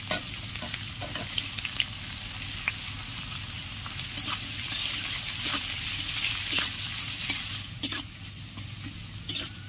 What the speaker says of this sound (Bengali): পেঁয়াজটা একটু লাল লাল করে ভাজতে হবে